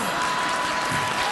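Studio audience applause from a late-night talk show crowd, a brief dense burst of clapping at steady loudness.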